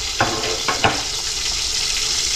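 A pot of vegetables, including okra and greens, bubbles and hisses steadily, with a few soft knocks near the start, like something stirred or moved in the pot.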